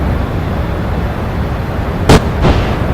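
Two sharp bursts ring out near the end in a DCS World air combat simulation as a fighter fires on an F-15, each a brief broadband crack over a steady rumbling engine drone.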